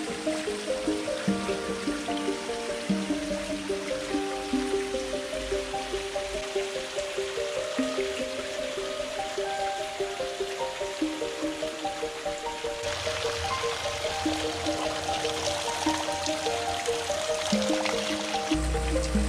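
Steady trickling and splashing spring water runs throughout at the Tamshybulak spring near Kapal-Arasan, a continuous close stream with faint tonal background hum and no voices.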